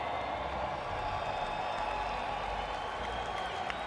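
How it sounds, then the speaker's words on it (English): A large esports arena crowd at the Fortnite World Cup cheers and applauds for a world champion player, a steady, dense roar of clapping and shouting that holds at full volume for the whole few seconds, with a faint voice mixed in. "I need you guys to make some noise right here, right now."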